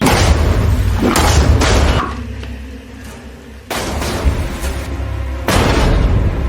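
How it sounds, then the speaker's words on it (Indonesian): Heavy explosive booms in a dining hall in a Korean action film burst out one after another, loud and deep, with a quieter rumbling stretch between the blasts. "Ledakan pun terjadi di aula makan itu."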